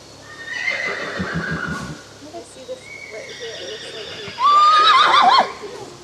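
A horse whinnies loudly near the end, a high wavering call, after quieter rustling, hoof clops and some background talk.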